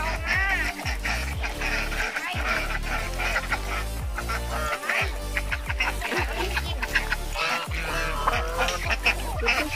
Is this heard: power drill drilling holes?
no